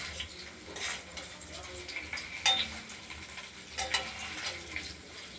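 Cubes of paneer sizzle in hot oil in a kadai for paneer posto bhapa, a soft continuous frying hiss broken by brief stirring clinks and spatters, with no voices.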